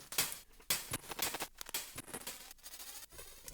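Faint granular synth layer from an electronic music track, made of crackly, fragmented clicks and brief bursts in an irregular, stuttering pattern, heard alone.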